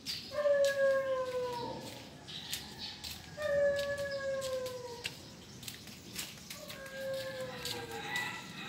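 A dog howls three times in long, sliding wails with pauses between, moderately close, over a faint background hum.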